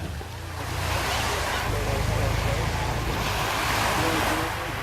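Sea surf rolls steadily on a sunny coast, a loud continuous wash mixed with wind buffeting the microphone, with no distinct breaks between waves.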